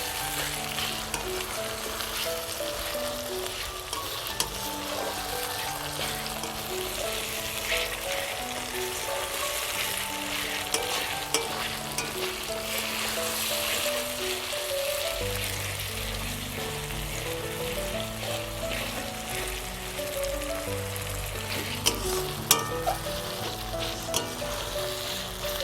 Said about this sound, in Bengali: এবার এটা ভালোভাবে মশলার সঙ্গে কষিয়ে নিতে হবে।